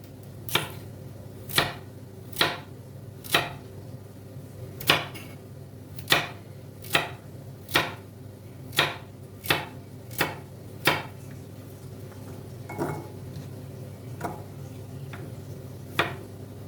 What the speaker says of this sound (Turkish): Etim pişerken ben de hemen havuçlarımı doğramaya başlıyorum.